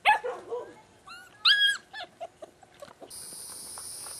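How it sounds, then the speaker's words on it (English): A Labrador litter puppy gives a few short, high whimpering yelps and squeaks close by, separated by brief quiet gaps, followed by a steady high-pitched hum. "This little puppy is Laverne's, one of her little girls."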